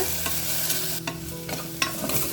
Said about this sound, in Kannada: ಸೊ ಇದನ್ನ ಒಂದು ಎರಡು ನಿಮಿಷ ಚೆನ್ನಾಗಿ ಫ್ರೈ ಮಾಡ್ಕೊಂಡು ಬರೋಲ್ಲ